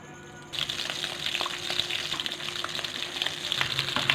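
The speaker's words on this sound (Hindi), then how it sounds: "तो जैसे जैसे ये फ्राई होती जाएगी, ब्राउन होती जाएगी" Aloo tikki coated in besan frying in hot oil, a steady crackling sizzle that starts suddenly and keeps going, close and fairly loud.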